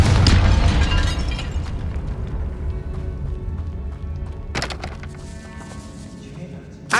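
A Confringo fire spell explodes in Hogwarts Legacy, a loud booming burst with a sharp crack near the middle and another blast at the end, layered over rumbling game ambience with no talk.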